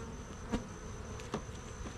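Honey bees buzz steadily around an October hive in a shaded spot, a faint continuous drone with a couple of brief louder passes close by.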